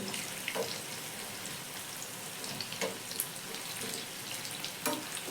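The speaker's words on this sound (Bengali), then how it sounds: "গ্যাসের ফ্লেমটা মিডিয়ামে রেখেই কিন্তু পকোড়াগুলো ভেজে নিচ্ছি" Pakoras deep-frying in oil over a medium gas flame, a continuous soft hiss dotted with scattered crackles and pops, steady and close.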